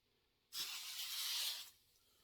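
One continuous burst of spray starch misted onto a pair of shorts, a close, even hiss lasting a bit over a second before stopping, no voices.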